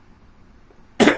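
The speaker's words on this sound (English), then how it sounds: "Sorry about the coughing, folks." A person coughs once, a sudden close, harsh burst with a quick second pulse after a near-silent stretch.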